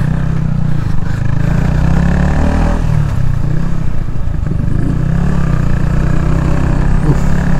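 A Yamaha XSR 155 motorcycle ridden on the road, its engine a continuous low drone with wind rumble and road noise, close and loud, with no talking.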